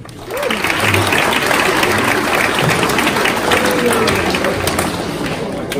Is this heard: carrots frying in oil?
no